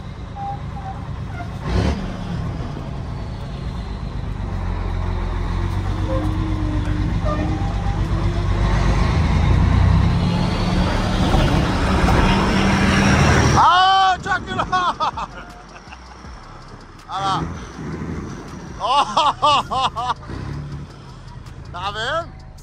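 A Scania 113 Topline truck engine rumbles loudly up close, building into a heavy, sustained roar before dropping off, with people talking and chatter mixing in over it toward the end.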